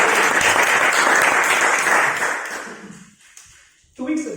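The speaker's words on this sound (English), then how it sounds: "So let us once again give big round of applause." A large audience claps loudly at an evening gathering, a dense burst that fades out after about three seconds, followed by brief quiet and then a voice starting to speak.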